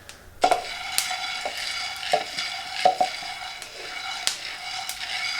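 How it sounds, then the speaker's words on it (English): Coffee beans roasting through second crack give off faint, scattered snapping pops over a soft, steady sizzling hiss, with irregular quiet crackles close by. "You can actually hear most of them are now doing their second crack"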